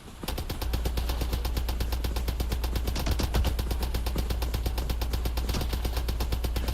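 Rapid automatic gunfire from a modded gun in Starfield rattles in a fast, unbroken burst of closely spaced shots, loud and continuous throughout.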